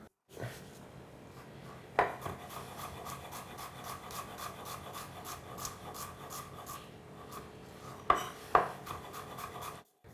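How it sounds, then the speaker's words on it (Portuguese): A sharp knife finely chopping vegetables on a cutting board in a home kitchen, a rapid even series of light taps with a few louder knocks, close and fairly quiet. "E agora é só picar bem fininho aqui"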